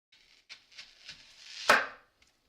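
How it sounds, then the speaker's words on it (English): A knife cuts an onion in half on a board: a few soft, light slicing scrapes build toward one louder crisp chop, heard close and quiet with no talk. "So your onion should be peeled by now. So let's cut it in half."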